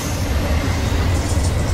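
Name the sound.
freight train passing on the Lehigh Line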